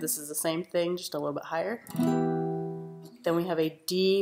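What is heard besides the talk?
None of the usual background noises is heard.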